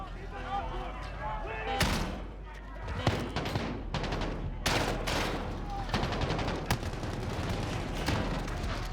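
Gunfire in a Call of Duty story mission, rapid rifle and machine-gun bursts with sharp individual shots and slams, loud and continuous, with someone talking over the action.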